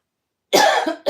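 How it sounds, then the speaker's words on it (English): A single loud, close cough after a moment of silence, followed by the start of another cough. "I feel like I have a cough or something."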